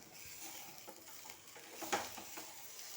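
Fenugreek leaves sauté in a pan over a low flame with a soft, quiet sizzle and light stirring scrapes, plus a brief clatter near the middle.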